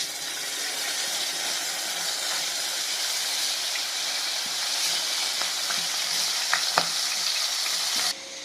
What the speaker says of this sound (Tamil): சீலா கருவாடு பொரிஞ்சிட்டுங்க.